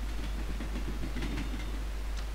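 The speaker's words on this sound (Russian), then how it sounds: "у него железная дорога здесь ездит" A toy railway train runs around its track inside a house in the Hello Neighbor video game, giving a steady, close clattering rumble with no talk.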